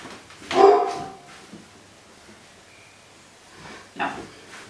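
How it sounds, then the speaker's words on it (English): A dog barks indoors, one sharp burst of barking followed by a pause and a second, shorter bark, fairly close and loud against a quiet room. "I am so sorry about the dog barking"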